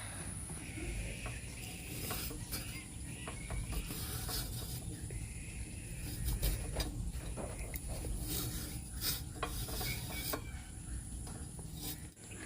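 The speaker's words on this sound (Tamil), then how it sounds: "இப்போ நம்ம வந்து வாழைக்காய் வந்து சூப்பராக வந்து செத்திட்டோம். எதில் செத்தணும்னு பார்த்தீங்கன்னா இந்த அருவாமனையில் தான் செத்திருக்கோம்" Raw plantain scraped against an aruvamanai blade, a continuous close rasping and scratching with irregular clicks, no talk.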